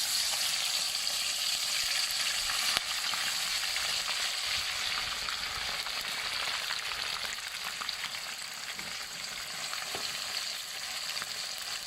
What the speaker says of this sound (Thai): กุ้งเมื่อกี้ดิฉันชุบ แป้งทอดกรอบไปหน่อยนึงค่ะ นะคะ เดี๋ยวเราลงไปทอดค่ะ